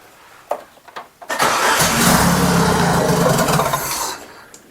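A 1998 Chevy Tracker engine fitted with a custom turbo header cranks over loudly and steadily for about three seconds after a few short clicks, then winds down without catching.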